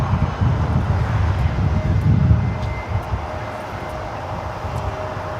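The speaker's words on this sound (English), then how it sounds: "This Gulfstream G450 is coming in from Denver Centennial Airport" A Gulfstream G450 corporate jet arrives at Los Angeles International Airport, heard as a steady, loud low-pitched engine roar with wind buffeting that swells and then gradually fades and thins out.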